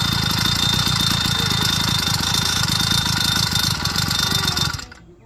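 The engine of an OCC chopper YD 100 motorized bike idles close by with a steady, fast-pulsing putter and a high whine, then cuts off and falls silent near the end.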